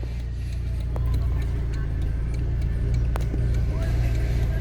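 Heavy car traffic rolls past in front of a house in São Paulo, a constant close rumble of engines with a few sharp clicks, while people talk over it.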